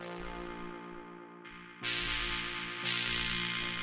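A dry techno synth stab heard without amp or OTT processing, repeating in a steady pattern with brighter hits entering partway through, moderately quiet and without talk.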